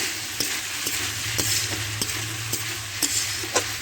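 Boiled cucumber curry being stir-fried in a pan: a steady sizzle with regular scraping strokes of a spatula about twice a second, close and alone.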